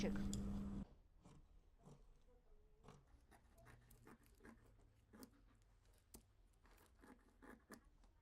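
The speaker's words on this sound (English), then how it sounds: "Now I'll cut the sleeves." Scissors cut dress sleeves from fabric for an evening gown, giving a run of soft, close snips and rustling cloth at an uneven pace after a brief loud burst at the start.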